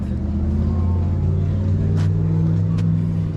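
An old, carefully restored Pontiac idles with a deep, steady rumble, loud and near, holding an even drone throughout with a couple of faint sharp clicks toward the end.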